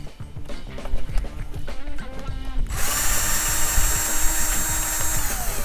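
A screw inside the folding mechanism of a Xiaomi electric scooter is loosened and backed out, with close metallic clicks and scraping taps, then a sudden bright hissing whir takes over midway and continues steadily.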